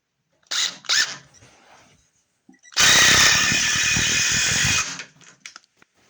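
A power drill drives screws into a shelf during shelf building, with a solid two-second burst of steady whirring preceded by a couple of short trigger blips and followed by brief clicks.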